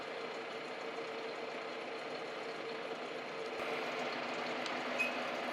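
A machine slowly drilling through a cast iron chain gypsy for a boat capstan at about 200 RPM, giving a steady, even mechanical drone with a low hum, close and continuous with no talk.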